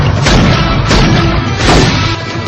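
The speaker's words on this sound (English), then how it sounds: "Here's another explosion for you movie kids." A movie explosion from the action film Last Action Hero: a loud, booming series of blasts and crashes, with repeated heavy bursts over about two seconds and no speech.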